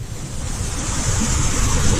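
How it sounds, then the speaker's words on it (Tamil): Water rushes steadily at Kiliyur Falls waterfall in Yercaud, a loud, continuous roaring wash with wind buffeting the microphone, building slightly toward the end with no voices. "பாத்தீங்களா, தண்ணி எவ்வளவு நிறைய வருது"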